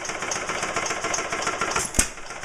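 An old stationary engine fitted with an auto greaser runs steadily in a garage engine shed, a close, even rhythmic chugging with a sharp knock near the end.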